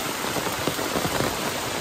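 Heavy rain pours steadily near farm fields, a dense, loud, continuous hiss with no voices.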